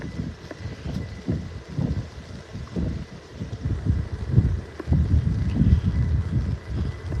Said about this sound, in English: Wind-wise, it's noisy.